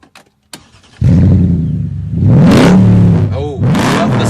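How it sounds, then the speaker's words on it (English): A Mercedes B55 AMG's 5.5-litre V8 cranks and fires on a private racetrack in Rastatt, bursting into a loud close roar, then blips sharply twice with deep revving swells; a voice is briefly heard. "Let me fire up the engine."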